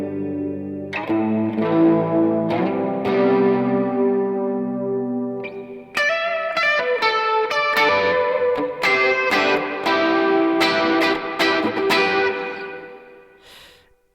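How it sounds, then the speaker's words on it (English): A Chase Bliss Lost and Found multi-effects pedal set to a chorus reverb, turning played guitar notes into lush, shimmering, sustained chords that swell and ring out with a long, wavering tail. No one speaks. "Like this chorus reverb"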